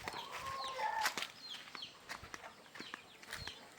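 Free-range chickens on a small farm cluck and call repeatedly, with a rooster-like crow and scattered bird chatter at close to moderate distance over a faint outdoor background.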